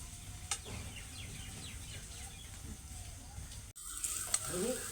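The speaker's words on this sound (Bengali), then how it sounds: "আমি কিছুক্ষণ নাড়াচাড়া করে মশলার সাথে চালটাকে কিন্তু ভেজে নিয়েছি" Gobindobhog rice fries with spices in a pan, a soft continuous sizzle with light stirring, ending in a louder burst of hiss and clatter.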